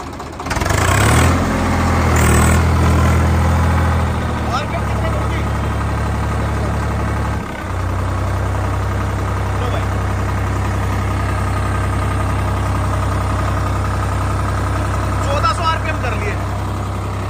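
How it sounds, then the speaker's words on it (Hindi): A dual clutch tractor engine runs steadily in first gear, a loud, constant low rumble that stays even for the whole stretch after a brief burst of talk near the start. "ये ड्यूल क्लच ट्रैक्टर है"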